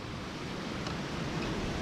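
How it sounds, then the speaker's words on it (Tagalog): Strong wind rushes steadily outdoors near a high drop by a tree, a continuous broadband roar with no pause and no voices. "Ang lakas ng hangin, di ba?"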